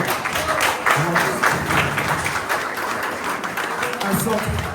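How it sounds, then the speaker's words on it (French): An audience at a company keynote applauds field staff. The clapping is moderate and continuous, mixed with crowd murmur and some voices, and neither rises nor fades. "on pourrait faire un maximum d'applaudissements pour tous ceux qui sont sur le terrain"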